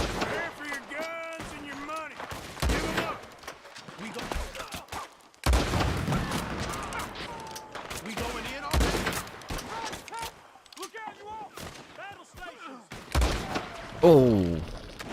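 Gunshots ring out in a Red Dead Redemption 2 shootout, loud bursts scattered irregularly among stretches of talk, with a dense rapid volley near the end.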